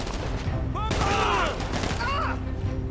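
Gunfire in GTA 5, a burst of rapid shots with crisp transients under a busy game soundtrack, while a voice and a tonal effect run through the middle.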